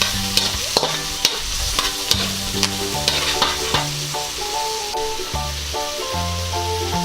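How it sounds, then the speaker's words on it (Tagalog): Salmon adobo with soy sauce is stirred in a hot pan, giving a steady sizzle and frying crackle with repeated scraping strokes, under background music. "Ngayon po ihahaluin natin to."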